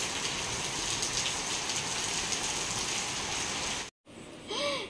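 Heavy rain falls in a dense, steady hiss for about four seconds, then cuts out briefly before another short burst of sound.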